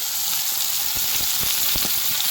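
Garlic dropped into hot oil with cumin and onion fries with a steady, bright sizzle, broken by a few sharp crackles and pops close by, with no talking.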